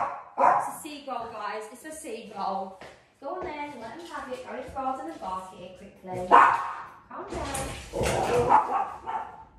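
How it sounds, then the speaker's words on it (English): A small dog barks in short yapping bursts from inside a home during the run-up to Christmas, with someone talking over and between the barks. "Go in the garden and bark it quickly."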